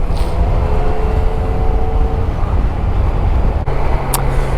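Steady wind-buffeted road and engine noise from a Yamaha Niken GT 890 three-wheeled touring motorcycle out on a ride, continuous and loud throughout with a brief dip near the end.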